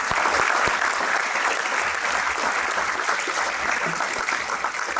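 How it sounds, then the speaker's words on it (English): Loud, sustained audience applause at a university athletics hall of fame ceremony, many hands clapping in a thick, even roar close by, continuing without break and with no speech on top. "So a round of applause for all those folks."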